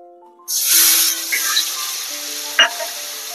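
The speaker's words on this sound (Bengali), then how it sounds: "আমি পেঁয়াজ আর রসুন বাটাটা ভালো করে ভেজে দেবো।" Onion and garlic paste frying in a pan with whole cumin, cinnamon and cardamom, a loud hiss bursting in as it hits the hot oil, then a steady crackling sizzle with a brief sharp spike near the end.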